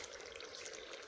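A glass of water poured into simmering kofta gravy in a pan, a faint steady splashing and gurgling pour lasting about a second, with no voices.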